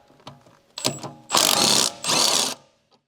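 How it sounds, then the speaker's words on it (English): An impact wrench with a 14mm deep socket removes a shock absorber bolt from the lower bracket of a Honda Civic EK during a coilover install. Two loud, sustained rattling bursts with a short gap, preceded by faint clicks and handling noises. "Using the 14mm deep socket and impact wrench, remove the bolt securing the shock absorber to the lower bracket."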